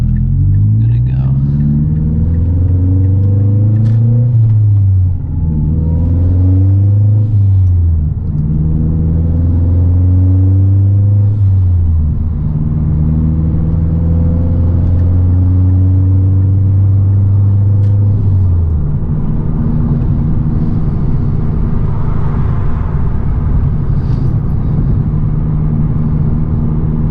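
A Mazda Speed 3 on wet backroads, its engine and exhaust droning and rising through several gear pulls with clear revving shifts, then settling into a steady low cruising rumble, loud and close from inside the car.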